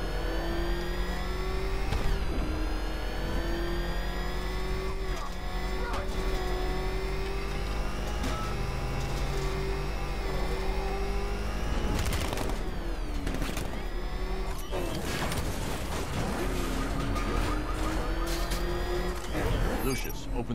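The Batmobile drives in Batman: Arkham Knight, a sustained engine whine that rises and falls with acceleration, with bursts of crashes and gunfire-like impacts partway through and voices talking over it.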